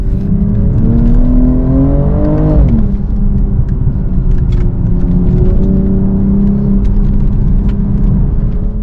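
A BMW M240i xDrive with a turbocharged inline six-cylinder engine accelerates hard, its loud rising drone dropping at a gear change before climbing steadily again, heard close with no talking.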